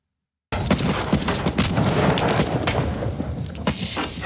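Dense gunfire from the war movie Saving Private Ryan (1998) breaks out suddenly after a brief silence, with rapid overlapping shots and booming blasts continuing loudly throughout.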